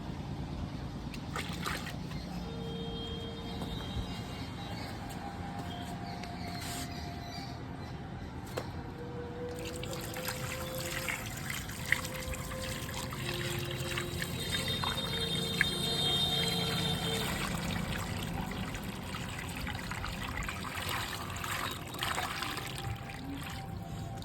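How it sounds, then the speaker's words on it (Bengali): Water trickles and pours from a container into a potted lotus plant's soil, a soft continuous stream that sloshes now and then, fairly quiet and without talk. "এবার আমরা দেবো জল চলো জলটা নিয়ে আসি"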